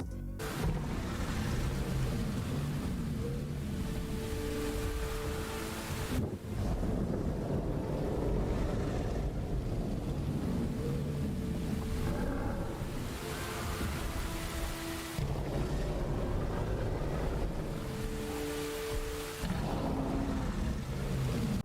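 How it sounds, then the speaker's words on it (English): Heavy rain in the Roblox game Era of Terror pours down as a loud, unbroken wash of noise that holds steady for over twenty seconds with no speech. "The rain's just very loud."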